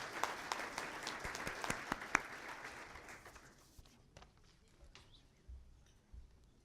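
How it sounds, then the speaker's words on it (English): An audience claps at the 2017 State of the City event. The dense applause rises in the first few seconds, then fades to a few scattered claps and faint room noise. "let's give them one more round of applause for earning those awards"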